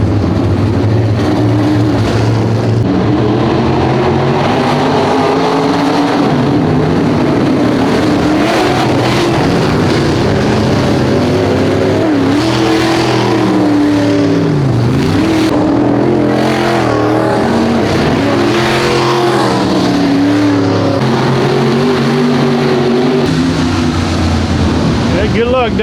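Race cars at Double X Speedway rumble and rev as they restack for a restart, a continuous, fairly loud engine drone with rising and falling pitch from several cars, while someone talks over it.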